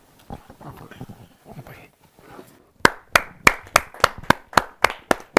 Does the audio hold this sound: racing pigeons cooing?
no